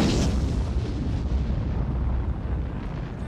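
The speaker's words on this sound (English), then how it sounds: "Where will you be when the atomic bombs fall?" Atomic bomb explosion in a Fallout 4 game trailer: a loud, sustained low rumble and roar that fills the whole clip with no pause, steady with no separate bursts and no voices over it.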